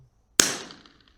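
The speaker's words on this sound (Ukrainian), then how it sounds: "Збулася Віталія Мрія, стріляє на 300 метрів." A single sharp crack from a CZ 457 LRP rifle shooting at a gong 300 metres away, sudden and loud after silence, with a short ringing decay trailing off.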